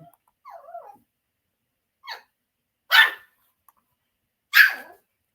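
Young dogs bark in a few short, separate yips and barks, each standing alone against silence, with a faint whimper near the start.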